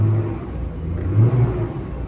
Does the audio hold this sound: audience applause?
no